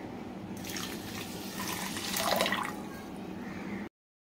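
Water pours into a cooking pot holding barnyard millet, a steady continuous splash that swells slightly midway, then stops abruptly.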